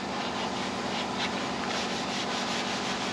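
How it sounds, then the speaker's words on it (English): A Scotch-Brite pad scuffing the lightly rusted, fire-burnt steel frame of a Buick Electra 225, a steady close abrasive rubbing that runs continuously without pause. "So a good light scuff with Scotch-Brite."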